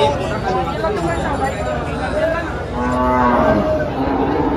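Cattle lowing at the Dhule cow market, a drawn-out moo swelling near the end over a crowd's chatter and close talk.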